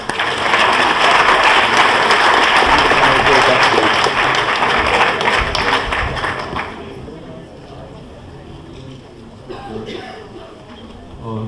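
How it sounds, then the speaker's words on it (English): Warm audience applause at a pharmacy students' symposium assembly, loud dense clapping filling the room for about six seconds before fading to a quieter hall with light shuffling. "please give a warm applause to our next speaker."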